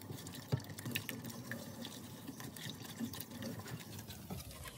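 Sugar being stirred into kei apple jam in a pot, soft continuous bubbling and wet clicking from the simmering fruit mixture with occasional spoon knocks, close and fairly quiet.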